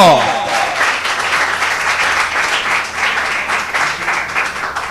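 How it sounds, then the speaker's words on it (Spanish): A church congregation applauds during a sermon, a dense, loud run of clapping that holds steady throughout after a short vocal tail at the start. "esas palmas a Cristo"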